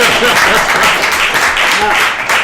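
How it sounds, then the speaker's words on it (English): An audience breaks into applause at a live comedy or storytelling show, a loud, full burst of clapping with cheering voices and chatter mixed in throughout. "Give him a round of applause."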